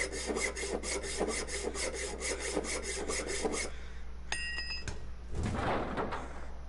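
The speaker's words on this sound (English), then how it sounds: "it's going to use the best hacksaw I have in my inventory" Hacksaw sawing in the survival video game The Long Dark, a steady run of rapid rasping strokes for a few seconds. A short tonal chime follows, then a soft rustle, all at moderate level.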